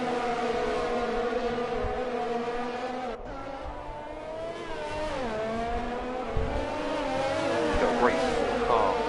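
Several race cars battle closely on the Hungary circuit in a racing video game, with engine tones rising and falling steadily and a brief dip around the midpoint, heard throughout with commentary over it.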